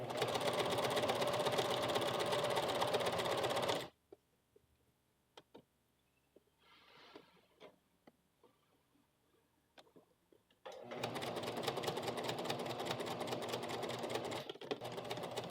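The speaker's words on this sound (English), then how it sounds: "I'm going to go back to the sewing machine and top stitch it here close to the edge" A sewing machine topstitches close to the edge of a blouse hem, running in a steady fast hum, then pausing for a few seconds of small clicks and handling before starting up again for another run.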